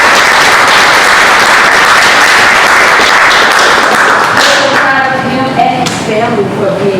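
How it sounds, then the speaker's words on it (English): A theatre audience on closing night breaks into loud, dense applause for the playwright, a steady wash of clapping that thins toward the end as a voice starts speaking over it. "Can we give him a round of applause?"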